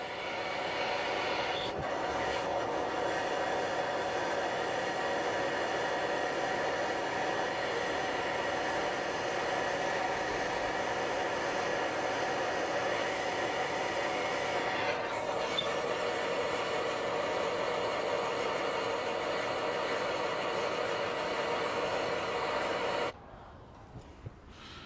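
A gas torch heats a stuck wheel lock nut, producing a steady loud roaring hiss up close that holds constant for over twenty seconds before abruptly cutting off.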